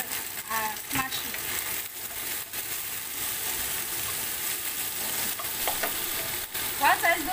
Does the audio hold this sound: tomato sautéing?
yes